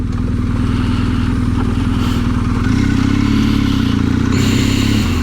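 BMW enduro motorcycle riding the Swartberg Pass in South Africa, its mid-pitched engine droning loud and steady close by with a slight rise in revs partway through, plus wind rush and rattling clatter.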